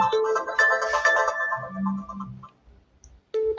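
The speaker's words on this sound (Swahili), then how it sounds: "Simu inaingia, I will pick that one." A phone ringtone plays a loud, bright melodic tune for an incoming call for about two and a half seconds, then cuts off. A short sound follows near the end, with no talking.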